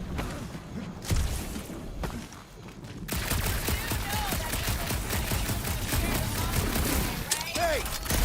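Rapid bursts of gunfire in the Guardians of the Galaxy video game on a dark monster planet, sustained automatic shooting with thumps and zaps, loud and continuous after a quieter opening.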